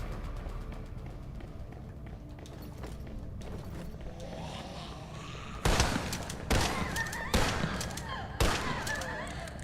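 Shotgun fire in a video game: quiet game noise at first, then four loud, evenly spaced blasts near the end, each a heavy boom with a short tail.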